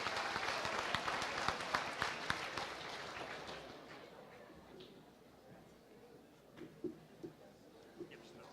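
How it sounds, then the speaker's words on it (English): Applause for competing teams at a state FFA awards event, a fairly faint wash of clapping that fades out midway, followed by a few scattered louder claps and background voices. "a round of applause for all the teams"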